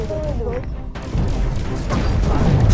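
Explosions going off in the Space Crew space battle game, a string of loud deep booms layered over one another, with a voice talking over them.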